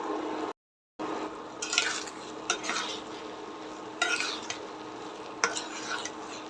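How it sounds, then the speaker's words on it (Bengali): Bhuna khichuri of masoor dal and rice being stirred in a pot just after the lid comes off: a few scraping, clattering spoon strokes at irregular intervals over a soft background hiss, close and fairly quiet. "এখন ঢাকনা খুলে নেড়ে দিব।"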